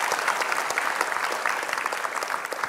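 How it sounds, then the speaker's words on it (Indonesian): Studio audience applauding during an Indonesian talk show, a bright, busy patter of many hands, steady and fairly close for a few seconds with no voices over it. "Harus dikasih tepuk tangan itu"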